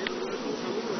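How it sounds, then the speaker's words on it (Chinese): Honeybees buzz in a steady, close drone at the entrance of a beehive, with a continuous hum and no voices. "我看现在好像蜜蜂越来越少了啊，在这个门口的"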